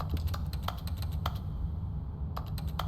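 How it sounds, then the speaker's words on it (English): Object-touching sound effects in The Stanley Parable Ultra Deluxe video game resemble rapid computer keyboard typing. Clusters of crisp clicks come close and steady, pause briefly, then resume over a constant low background hum. "You know what the touching sound sounds like? It sounds like keyboards."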